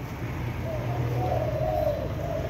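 A pair of black Thai doves coo in a soft, wavering call over a steady background hum. The cooing is close and continuous.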